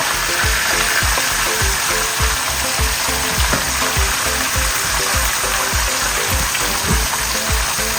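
Fish sizzling in hot oil in a pan for Haitian pwason fri, a steady loud crackling fry with dense popping throughout and no voices.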